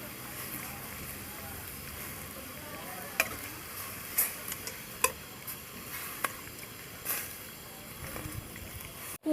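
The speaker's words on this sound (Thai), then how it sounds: "ก็คั่วมะละกอกับเครื่องแกงกับหมูให้เข้ากันนะคะ" Papaya stir-fried with curry paste and pork in a pan gives off a steady, low sizzle, with scattered sharp clicks and scrapes from a utensil stirring against the pan.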